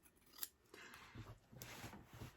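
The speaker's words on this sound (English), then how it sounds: "cut off the selvage edge right here with a pair of scissors." Scissors snip through the selvage edge of fabric in a few close, crisp cuts with soft rubbing sounds between them, quiet and with no talking.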